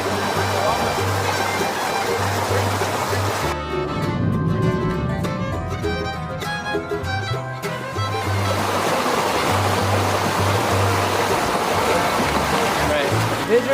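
Water sloshes in a gold pan worked over frozen bedrock ground outdoors, a steady close swishing that churns louder through the middle, with continuous background water.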